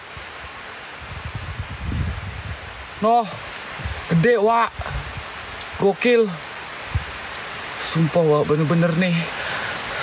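Rain falls steadily outdoors at night at a reputed haunted site, a continuous hiss of drops on surfaces heard under someone talking in short bursts.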